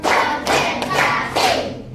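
A few sharp hand claps in a classroom counting game, spaced out roughly every half second to second, each crisp and close with short decays.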